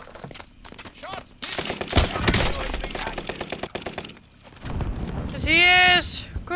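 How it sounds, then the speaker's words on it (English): Gunfire in Call of Duty Warzone: rapid bursts of shots crackle through the middle of the clip amid game effects, with voices talking over the action. "Shots!"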